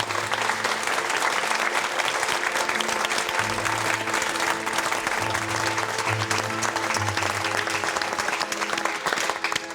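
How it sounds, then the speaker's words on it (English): Sustained applause from a studio audience at a portrait art competition, dense continuous clapping throughout at even loudness with no talk. "please join me in giving them some well-deserved applause"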